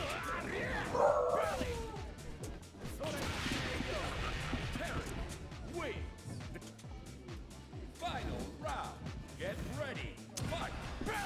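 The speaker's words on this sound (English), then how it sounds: "And we've got a dog here, and she's going a little crazy." A dog in a warehouse whines, yips and barks in short bursts, mixed in with crashing and thwacking video game sounds and people talking.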